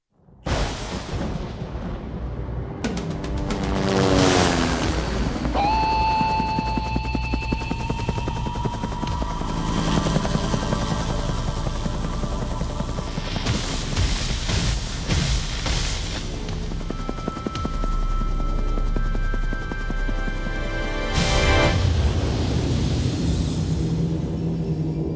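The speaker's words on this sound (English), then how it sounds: "it's with the helicopter, and you can hear the rotor blades spinning" Helicopter rotor blades thump steadily in a loud, rumbling drone that sweeps past, with deep booming swells and whooshes layered over the continuous beat, as heard in a Dolby Cinema presentation.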